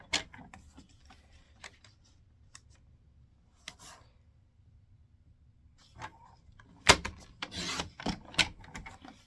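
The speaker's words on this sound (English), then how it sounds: "now I'm going to just take my trimmer again, and I'm going to cut those 5 strips at a 1/2 inch" A paper trimmer slices half-inch strips of cardstock for a lattice card. Faint ticking and sliding noises come first, then a few sharper, louder cutting strokes near the end, with no talking.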